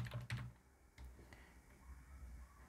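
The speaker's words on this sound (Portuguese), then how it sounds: "vou dar um Enter e vou digitar End" Close typing on a computer keyboard: a few quick key clicks at the start, a couple of isolated presses around one second in, then quiet room noise.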